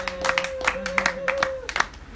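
Congregation applauding during a French-language church sermon, a steady patter of clapping hands mixed with a sustained voice and crowd sounds over about two seconds.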